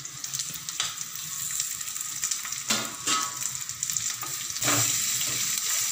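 Green plantain peel stir-fried with onions in a pan for a poriyal, making a steady, close sizzle broken by several louder bursts of stirring and scraping.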